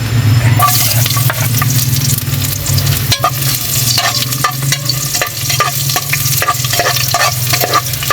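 Ginger, garlic and onion sautéing in a pan for native chicken tinola, a loud continuous sizzle punctuated by repeated scraping stirs and clicks of a utensil against the pan, with a low steady hum beneath.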